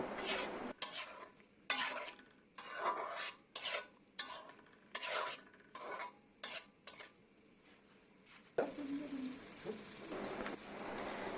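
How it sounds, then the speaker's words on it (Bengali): A spoon stirs spicy masala chicken skin curry in a pan in repeated scraping strokes with soft sizzling between them. Each stroke sounds quiet and close, and the stirring gives way to a steadier frying hiss at the end. "ঢাকনা খুলে পাঁচ মিনিট পর আবার কিছুক্ষণ নেড়ে চেড়ে নিব"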